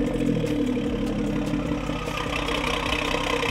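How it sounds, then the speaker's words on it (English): A BMW 340i with the B58 engine settles after a cold start, a steady low idle rumble with slightly lifted revs, running evenly throughout with no cracks or pops. "So you guys could hear the startup roar there."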